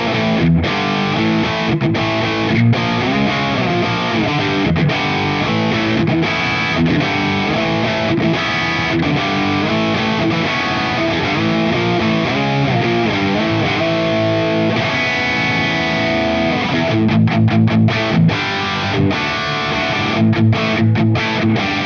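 A distorted electric guitar with P90 pickups, a Gordon Smith Gatsby, plays rock riffs through a Snakebite50 amp model based on a Soldano Hot Rod 50, chugging and ringing continuously with brief stops and no talking.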